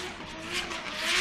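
Nissan S15 drift car at an Irish Drift Series round accelerating hard, a steady rising engine note with tyre noise building over a short burst, fairly close and loud with no talk.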